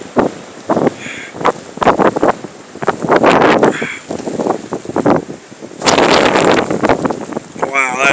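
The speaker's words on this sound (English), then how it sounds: "This is right facing the wind." Blizzard wind gusts roar against the microphone on a road in Bangor, Maine, in loud, uneven surges of rushing noise while a person exclaims over it.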